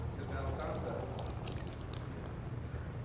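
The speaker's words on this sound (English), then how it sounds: "I can put a little bit more water into this glass." Water trickles and splashes steadily as it is poured into an already full glass and spills over, with a low background hum throughout.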